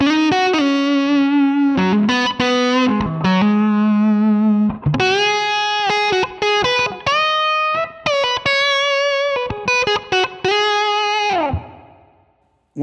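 Electric guitar through a Line 6 Helix with compressor at peak reduction and gain of 5: clean sustained melodic notes and bends, smooth and even, played alone and close.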